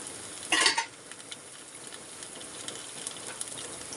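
Chopped dried red chillies hit hot oil with ginger and garlic for a pickle, giving a brief loud sizzling burst that settles into a steady, even frying hiss.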